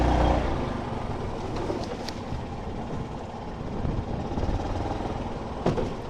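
A 2025 Yamaha UMAX 2 Rally 2+2 EFI gas golf cart drives along with a steady, fairly quiet engine hum and low rumble, rising slightly near the end, with no talk over it.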